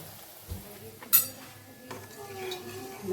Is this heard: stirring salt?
yes